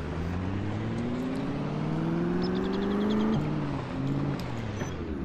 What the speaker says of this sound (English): I'll take the car a bit closer.